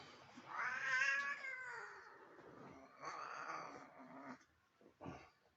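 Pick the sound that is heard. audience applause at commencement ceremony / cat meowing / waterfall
cat meowing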